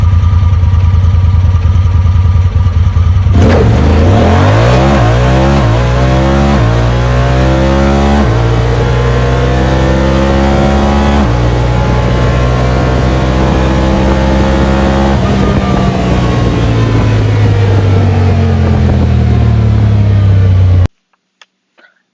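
A Honda Talon 1000 side-by-side with a performance tune roars through a hard acceleration run on a test track, its engine note climbing repeatedly through the gears in loud, sustained revving before cutting off abruptly near the end.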